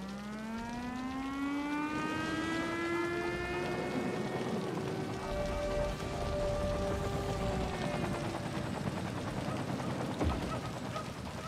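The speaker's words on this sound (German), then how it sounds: "Da ist das schon der Regen ja im Übrigen auch." Steady rain-like hiss of rain in the game Cities: Skylines throughout, overlaid by a long rising and falling siren-like drone and faint tonal hums.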